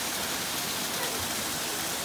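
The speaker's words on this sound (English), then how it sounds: "Yeah, another waterfall." A steady, full-band rush of falling water from a waterfall along a hiking trail, loud and continuous throughout with no other sounds standing out.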